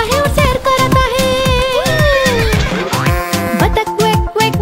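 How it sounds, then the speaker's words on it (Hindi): A horse neighs amid a bouncy children's cartoon tune, the whinny sliding and wavering over loud rhythmic music beats close and prominent. "घोड़ा हिन हिन करके सामान उठाता है और सैर कराता है।"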